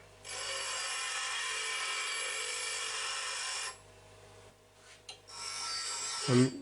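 A brazed steel tool bit is ground on a coarse wheel, giving a steady, loud, harsh abrasive whine for several seconds that cuts off, leaving brief quieter scrapes and a second burst of grinding near the end.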